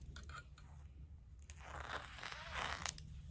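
Scissors crunch and crinkle through clear water-soluble stabilizer film, a close, crisp cutting sound in short bursts that builds toward the end, with no talking.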